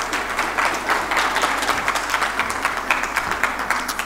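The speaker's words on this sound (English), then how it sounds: "Please give him a round of applause." A conference audience at a sustainable finance dialogue in Casablanca applauding to welcome a moderator, steady rhythmic clapping from a moderate-sized room with individual claps audible, continuing throughout.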